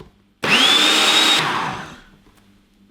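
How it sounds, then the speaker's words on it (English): A blender whizzes a sauce with chunky garlic bits, a loud, steady motor whir of about a second and a half, rising in pitch as it spins up, then winding down and fading to near silence. "the cool thing about this blender is obviously the chunky bits like the garlic and all that have hit the blade"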